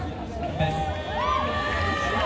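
A crowd of fans at a Japan Expo cosplay show cheers and calls out together, forming a lively, continuous wash of voices with rising shouts.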